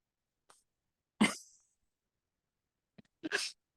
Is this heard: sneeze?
yes